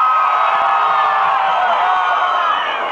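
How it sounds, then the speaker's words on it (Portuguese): A live audience at a Brazilian dance contest cheers and shouts loudly and continuously, a dense crowd roar with whoops held at steady volume throughout. "Aplausos para o Boca de Caçapa."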